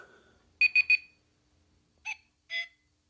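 A small electronic cuckoo alarm from a Xinjia talking watch: three quick tones, a pause, then two more, tinny and thin against near silence.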